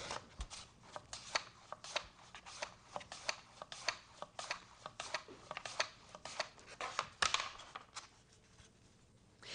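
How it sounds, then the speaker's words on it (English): A rapid, steady run of crisp slicing strokes, like potatoes sliced on a mandoline, close and clear, with no talking. "What I'm doing is I'm cutting some potatoes"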